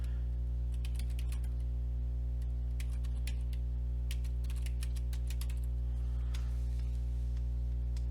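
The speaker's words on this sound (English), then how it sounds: "Type in your email address." Keys tapped on a computer keyboard while entering an email address, quick irregular clicks in short bursts over a constant low electrical hum, fairly faint.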